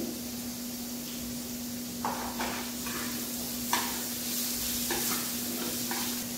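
Cumin seeds sizzling in hot oil over partly fried potatoes in a pan, a steady low hiss with a constant hum and a few close stirring scrapes, no talk.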